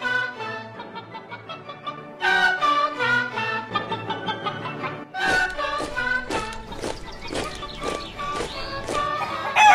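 A flock of chickens clucks and squawks in a busy, overlapping chorus, growing louder and more crowded partway through, with agitated calls piling on top of one another close by.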